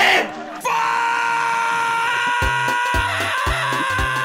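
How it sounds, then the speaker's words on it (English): A streamer screams and yells loudly while playing the cartoon video game Cuphead, with game music and repeated punchy sound effects running underneath throughout. "You're just screaming your lungs out at a cartoon cup."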